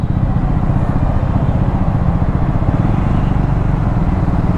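A Triumph Scrambler 400X motorcycle engine running in second gear with the clutch held in, a loud, continuous low rumble with a fast steady pulse, close up and unbroken throughout.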